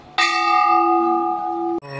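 Temple bells at Ghanteswari Temple in Chipilima, Sambalpur, struck loud and close, one long ringing tone with bright overtones that sustains for over a second before another bell is hit.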